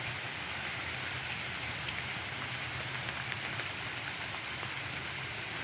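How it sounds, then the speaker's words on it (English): Rain falling steadily outdoors during the first rain in about a month: a dense, even hiss of drops on surfaces that holds at the same level throughout, with no voices. "But it could very well be just the rain."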